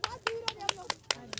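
A small group clapping for Pallavi, seven crisp, evenly spaced claps in quick rhythm at close range, with faint voices underneath.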